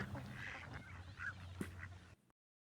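Soft, high-pitched duckling quacks repeat over a low background hum, fairly quiet and close, ending abruptly.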